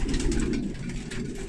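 Pigeons cooing and scuffling in a loft after a respiratory treatment: a brief, close burst of low throaty cooing with restless movement, no voices.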